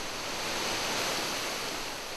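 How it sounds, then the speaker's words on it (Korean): A waterfall pours steadily in a continuous broad roar that stays even and unbroken throughout, with no voices. "시원스럽게 쏟아지는 폭포가 장관입니다."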